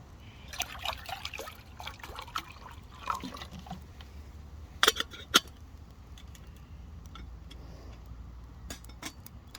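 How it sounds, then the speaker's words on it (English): Filtered water poured into a vessel for boiling, a steady trickling splash with a few sharper clinks midway, heard close and moderately quiet. "The water's been filtered, now it's going in for boiling, ready for that all important cup of tea."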